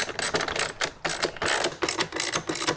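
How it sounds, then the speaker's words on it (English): A ratchet tool clicks in steady rapid bursts while tightening 8mm nuts into plastic during a BMW E90 335i speaker upgrade, close and fairly loud with no talking. "So when you tighten these down, they don't need to be crazy tight because you are tightening into plastic."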